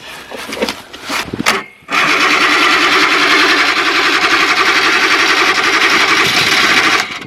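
A 50-year-old vintage twin-track concept snowmobile engine cranks briefly with a few sputters, then catches and settles into a steady, loud, buzzing idle held close by for several seconds.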